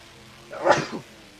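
A single sneeze, one sharp, fairly loud burst rising out of near-silence and fading within half a second.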